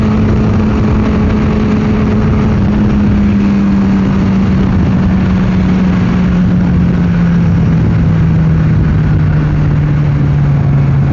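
A Honda CBR600RR motorcycle engine drones loudly and steadily while riding at night in South Africa, its pitch sinking gradually as the ride goes on, with no talking over the constant rumble.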